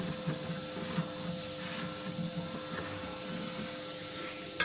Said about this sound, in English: Now I'll just hoover that up.